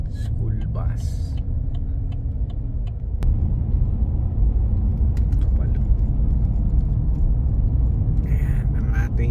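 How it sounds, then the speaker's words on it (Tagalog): A school bus rumbles steadily past nearby on a snowy, windy day in Canada, its low engine drone filling the whole stretch with a slight swell midway, no voices over it. "School bus."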